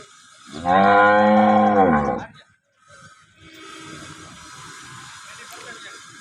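A local Banaskantha cow moos loudly and long, close by, followed by quieter rustling background noise and faint voices.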